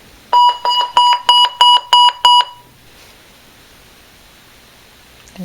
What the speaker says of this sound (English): Your welcome call is now being dialed.